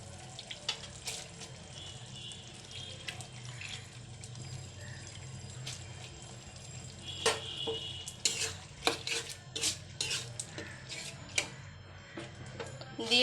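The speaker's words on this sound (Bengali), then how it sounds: "মশলাটা কষানো হয়ে গেছে, দিয়ে দেব ডাল। ডালগুলো দিয়ে দেব সবগুলো।" Masoor lentils tipped into a pan of fried spices and stirred, with scraping, sizzling and wet clattering of the spoon against the pan, growing busier and louder toward the end, close up and without talking.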